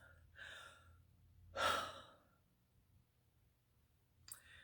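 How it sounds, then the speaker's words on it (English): A group draws in a deep breath, a soft breathy rush that peaks briefly in the middle, framed by fainter breaths and a small intake near the end, with no talking. "Everybody take a deep breath."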